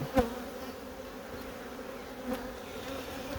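Honeybees of an open production hive colony drone in a soft, steady buzz, with a couple of brief louder passes of bees flying close by and no voices.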